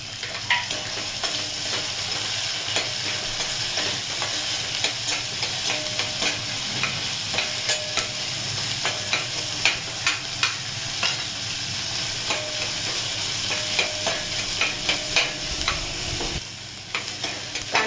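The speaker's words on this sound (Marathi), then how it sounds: "कांदा टोमॅटो चांगलं फ्राय झालंय, चांगलं परतलं गेलंय।" Onion and tomato fry and sizzle steadily in a pan while a spoon stirs them, scraping and clinking in a loud, continuous rhythm close by with no voices.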